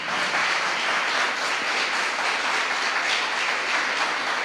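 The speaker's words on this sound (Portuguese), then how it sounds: "Você pode aplaudir ao Senhor?" A church congregation applauds at an evening family service, a steady, dense wash of clapping from many hands that holds evenly loud for the whole span with no speech over it.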